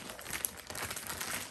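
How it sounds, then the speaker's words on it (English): Soft, close crinkling of thin plastic, a continuous rustle with small crackles, fairly quiet and without any talking. "Comes in this plastic bag."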